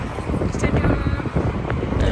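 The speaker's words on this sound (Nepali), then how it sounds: "हावाले मान्छेलाई उडाउने खालको हावा चाहिँ" Strong gusting wind buffets the microphone outdoors on a cold day in Hounslow, a dense low roar that stays loud and steady throughout with no break.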